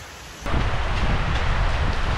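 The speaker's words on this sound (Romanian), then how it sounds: "Fiți atenți ce ploaie s-a pornit." A heavy tropical rainstorm with thunder at Railay Beach in Krabi bursts in suddenly as a loud, dense roar of rain with deep rumbling underneath, close and continuous.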